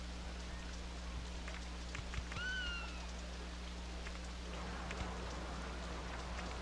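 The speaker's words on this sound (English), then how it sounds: "And it's raining. It's always raining in this park." Steady rain falls in the theme park video game Rollercoaster Tycoon, a soft, even hiss over a low hum. Partway through, a brief high rising chirp cuts in.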